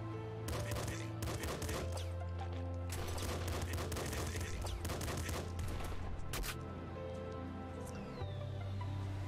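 Rapid bursts of gunfire from the video game Nuclear Throne crackle in dense volleys, with several separate clusters of shots over a steady low musical drone, fairly quiet overall.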